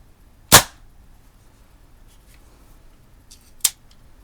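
Two sharp airgun shots from a Daisy Red Ryder or Barra 1858 CO2 pistol, a loud crisp crack followed about three seconds later by a second, slightly quieter snap, with near silence between.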